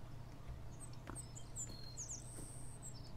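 Bird chirps in the video game Beyond Eyes: several short high tweets and a sustained whistled note scattered over a steady low ambient hum, fairly faint.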